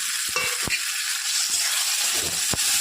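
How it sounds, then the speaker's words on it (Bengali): Shrimp fry with spices in a pan, giving a continuous close sizzling hiss broken by a few sharp clicks and scrapes of stirring. "মশলাটা ভাজা হয়ে গেছে, এখানে আমি চিংড়ি মাছটা দিয়ে দেবো।"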